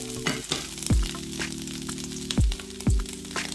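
Onions frying in a pan sizzle with a steady crackle, broken by a few sharp scraping stirs and thumps against the pan, over a faint low hum.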